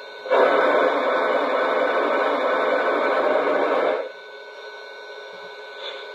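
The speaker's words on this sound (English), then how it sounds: "Here is the steam blowdown sound." Steam blowdown effect from a Lionel Legacy Strasburg #89 2-6-0 Mogul model locomotive: a steady loud hiss of rushing steam lasting nearly four seconds, cutting off sharply to a faint background, with no speech.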